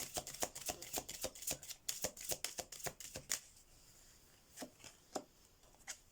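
Oracle cards shuffled by hand in quick, rapid riffling bursts, close and crisp, settling into a few slower, separate slaps and taps toward the end.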